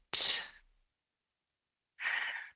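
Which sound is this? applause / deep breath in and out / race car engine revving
deep breath in and out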